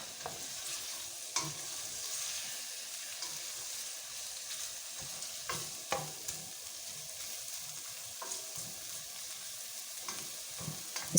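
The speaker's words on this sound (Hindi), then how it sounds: "जो पीनट जो है उसको भी थोड़ा सा हम पैन में भूनेंगे ड्राई। एक कतरा ऑयल डाल के उसको कर देंगे" Peanuts dry-roast in a pan with a single drop of oil, giving a steady, fairly quiet sizzle broken by regular scraping and clinking strokes of a spatula as they are stirred.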